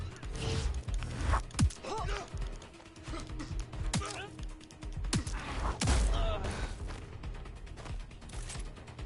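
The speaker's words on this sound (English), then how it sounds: "Gunfire over!" Bursts of gunfire from the video game Watch Dogs: Legion, several sharp shots scattered across a busy mix with mechanical clatter, and someone talking over them.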